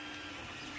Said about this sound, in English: Right now, we'll just see how well the printer prints.